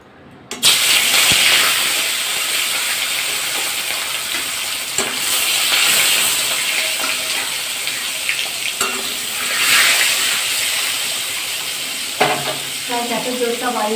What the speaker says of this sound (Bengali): মাছগুলো ভাজা করে নেব।